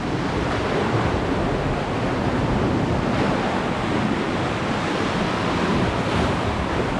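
Waves surge against rocks by a sea cave on a monsoon coast, a loud continuous roar of churning surf with wind buffeting the microphone.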